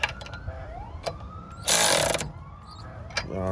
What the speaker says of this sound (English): this mini socket screwdriver I got.